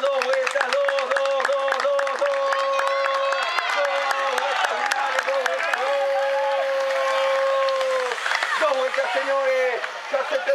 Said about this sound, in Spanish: Puede aplaudir todo el público presente.